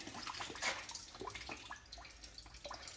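Rusty coolant water drains out of a BMW E30 in quick, faint drips and splatters falling irregularly into liquid, close by with no talk.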